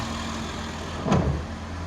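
A 2008 Jeep Wrangler two-door with a 3.8 liter engine idles steadily at close range, a low even hum with one brief thump partway through.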